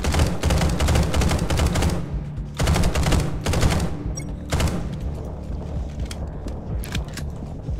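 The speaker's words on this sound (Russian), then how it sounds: "где-то наверху еще стрельба" Bursts of rapid automatic gunfire in PUBG, loud and close, with short pauses between volleys and scattered clicks.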